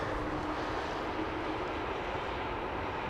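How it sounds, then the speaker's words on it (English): KLM Boeing 747 taxiing at Amsterdam Schiphol, heard as a faint, steady distant engine rumble and hiss, with no voices. "KLM 747 is on the move."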